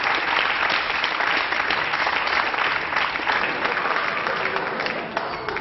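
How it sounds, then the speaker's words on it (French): Audience applause on a French television game show, a dense steady wash of many hands clapping throughout, close and loud, fading slightly at the very end. "Bravo, on t'applaudit."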